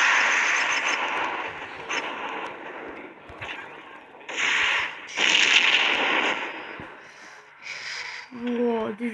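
Several bursts of a bomb being destroyed in the Max Payne Mobile video game, loud blasts and crackles that rise and fall over about nine seconds, with a busy game soundscape throughout.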